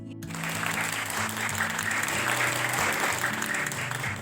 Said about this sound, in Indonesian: Beri tepuk tangan semuanya untuk